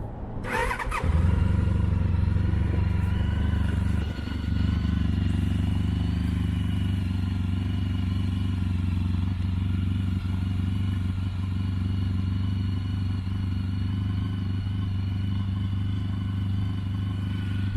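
A 2005 Honda ST1300 motorcycle with cut Ducati mufflers fires up from cold and settles into a loud, steady, deep idle with a low rumbling exhaust that runs unbroken to the end.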